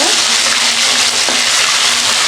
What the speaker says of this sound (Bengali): লাল লাল করে ভেজে নেবে মাছটা।